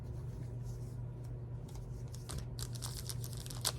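Trading card box packaging being cut open with a blade, soft scraping and crinkling of plastic and cardboard under a low steady hum, with a few sharper ticks and rustles toward the end, close and quiet.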